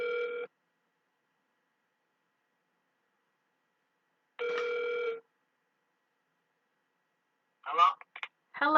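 A telephone rings out on a call-back line, two separate electronic ring bursts spaced apart with silence between them, followed by a short clatter as the line picks up.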